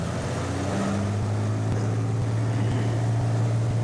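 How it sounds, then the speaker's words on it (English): Steady, loud propeller-engine drone of an agricultural top-dressing aircraft rolling down a sloped airstrip on takeoff with a slight tailwind, a sustained hum with a rising tone running throughout. "As the aircraft rolls down the strip, we'll become airborne."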